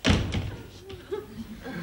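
A door is pushed shut indoors with a solid near thud, then a soft rattle settles while a voice speaks briefly afterward.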